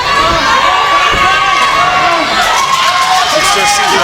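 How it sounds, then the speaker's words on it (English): A wrestling crowd cheering loudly and chanting for a wrestler to tap out, a dense, sustained roar of shouting voices filling the hall with no pauses. "And the crowd calling for Zack Reeb to tap."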